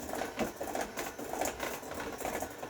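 Electric mixer running through chocolate chip muffin batter as the dry ingredients go in, a steady whirring drone with a faint rhythmic pulsing, close and continuous with no talking.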